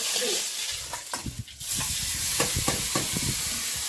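Dried red chillies sizzle in hot oil in a home kitchen, with mung dal being cooked: bright, crackling frying with a few sharp stirring scrapes and pops, close and continuous, with no talk.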